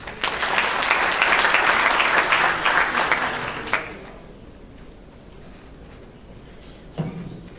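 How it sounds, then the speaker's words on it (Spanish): Lecture audience applauding, a dense burst of clapping for about four seconds that fades to scattered claps and room noise. "Con el aplauso de ustedes."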